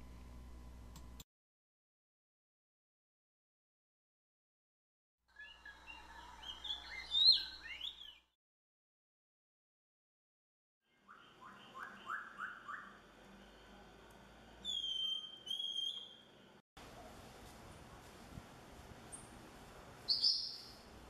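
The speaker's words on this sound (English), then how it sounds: "A mangrove cuckoo, now seen well in daylight." A mangrove cuckoo calls in Puerto Rico in several separate bursts of chattering, clicking notes broken by long silences, faint and distant over light background hiss.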